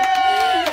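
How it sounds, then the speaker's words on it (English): A crowd arriving at a retreat cheers and whoops in a short burst, with one high sustained shout standing out over overlapping excited voices, close and loud. "we're going to let the mad crowd in"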